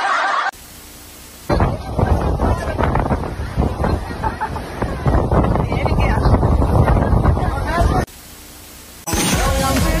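Strong wind buffets the microphone in loud, rumbling roaring gusts, broken by a few brief quieter cuts near the start and end.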